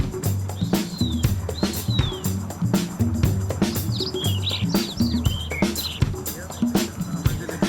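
Birds chirp and whistle in the Amazon rainforest, with parrots and araras among them; repeated short, high calls sound close and fairly loud, layered over a low voice talking throughout.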